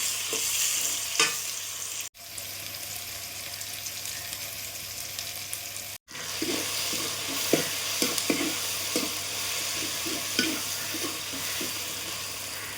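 Onions and tomatoes sautéing in a pan for a Kerala-style chicken curry, a constant dense sizzle broken by rhythmic scraping stirs and two brief cut-outs, with no voices.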